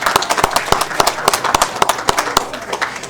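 Audience at a city council regular meeting applauds a state representative with a dense, continuous patter of many hands clapping, fairly loud and steady throughout.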